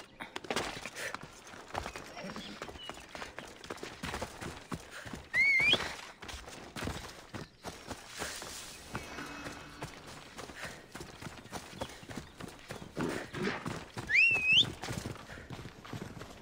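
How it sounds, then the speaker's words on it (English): A horse in Assassin's Creed Odyssey trots with rhythmic clip-clopping hooves, and two whinnies ring out amid game ambience and other effects. "Magic teleporting horse."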